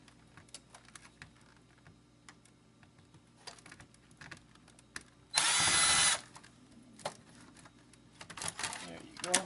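A power screwdriver whirs in one loud burst of under a second as it backs screws out of an original Xbox power supply board, surrounded by light clicks and handling noises.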